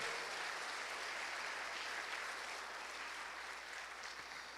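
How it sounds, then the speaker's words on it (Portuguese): Church congregation applauding during a sermon, a faint, distant, continuous wash of many hands clapping that stays even and slowly thins toward the end. "Pode aplaudir o Senhor."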